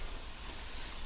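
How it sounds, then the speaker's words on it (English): Chicken and mascarpone sautéing in a pan for Chicken Florentine: a steady, close, hissing sizzle with no talk. "I'm just going to break up the big pieces and saute this all together."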